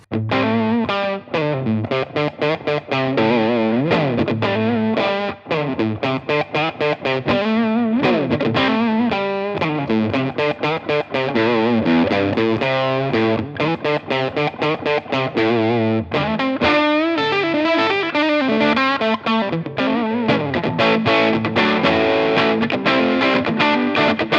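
An electric guitar played through a Cooltone Pedals Screamer germanium overdrive pedal plays a continuous run of chords and riffs, fuzzy and compressed with diode clipping, loud and saturated, with no talking.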